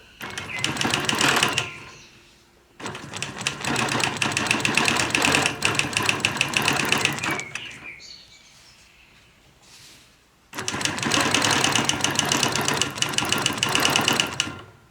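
A sewing machine quilts fabric with a Petunia ruler, stitching in three long, loud, steady rhythmic runs separated by short quiet pauses.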